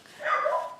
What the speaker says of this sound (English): If you can hear that, barking downstairs.